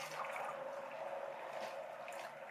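Water pours steadily into a pot of neck bones, a continuous splashing trickle heard close up and alone, about four cups going in as a starting amount.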